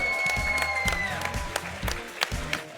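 A crowd at a collegiate Smash tournament applauds amid game music and sound effects, with scattered claps and cheers fairly faint beneath the electronic tones and thumps.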